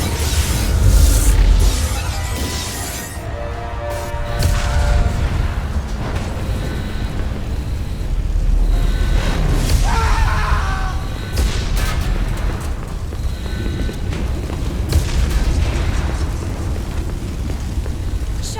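A starship under attack in Mass Effect Legendary Edition, with heavy booming explosions and rumbling blasts recurring over a dense, loud battle soundscape, continuous throughout with bursts of crackling debris.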